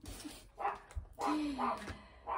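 A dog barks close by in a few short yips and barks, spaced in quick succession, with a person's voice audible around them.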